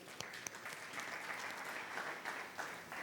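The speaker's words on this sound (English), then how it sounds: "let's give ourselves a round of applause" Applause from an audience at a cybersecurity conference, a steady wash of clapping at moderate distance with a few sharper claps standing out, fairly faint and without talk.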